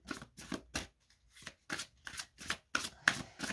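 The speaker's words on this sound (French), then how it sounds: "On prend également une carte de l'oracle cœur de vie" Oracle cards shuffled and drawn by hand, a run of crisp riffling bursts in a steady rhythm, close and quiet, with no talking.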